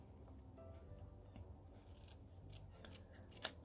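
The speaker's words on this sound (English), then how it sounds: "I'm going to trim this closer to the bottom of the words." Scissors make quiet, faint snipping and rubbing sounds while trimming card paper, ending in one sharper crisp cut near the close.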